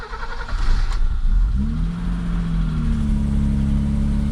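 A car engine cranks briefly with a rough, rising churn, then catches and settles into a steady idle, its low hum holding close and clear to the end.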